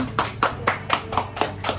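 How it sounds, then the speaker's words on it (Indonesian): Audience at a class gathering clapping hands in a steady, evenly spaced rhythm of seven sharp claps, close and clear with no talk over them. "Tepuk tangan."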